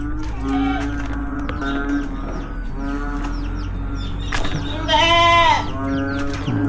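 Several goats bleat repeatedly during nonstop heavy rain, close and loud, with one long quavering cry standing out over a steady background hum.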